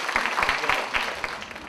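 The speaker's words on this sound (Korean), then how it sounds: "박수 주세요." Listeners at a Buddhist monk's lecture in Okcheon give brief applause, a short burst of scattered claps from a modest crowd with some murmuring underneath.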